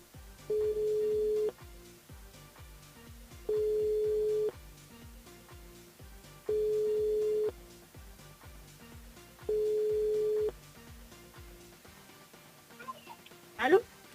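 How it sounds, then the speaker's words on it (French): A telephone rings out as a radio show calls a listener, four long evenly spaced tones about three seconds apart, loud and clear, followed by a brief handset click at the end. "On appelle Angel du côté de Saint-Pierre"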